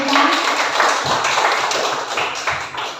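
A room full of people claps together at a school gathering, a dense, loud patter of hands that fades slightly toward the end.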